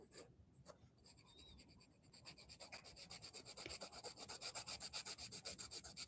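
A 2B pencil pressed hard on paper to shade a dark shadow, rubbing in a steady, rapid back-and-forth rhythm that starts softly and grows louder and more regular, close up with no talking.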